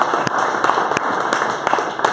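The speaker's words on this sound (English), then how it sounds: "So a big round of applause for our first lightning talk." Audience applause at a San Francisco Bitcoin meetup greeting the first lightning talk, a steady wash of clapping from a small room with a few sharper individual claps standing out, no talking over it.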